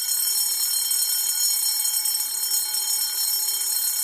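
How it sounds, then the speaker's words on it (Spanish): Emergency evacuation alarm sounding during a building drill, a loud, steady, high-pitched electronic tone ringing continuously without pause or talk. "Una vez activada la alarma,"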